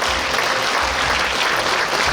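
Sustained, dense audience applause fills a hall at a book launch event for a former lawmaker in Suncheon, steady and loud throughout with no voices on top.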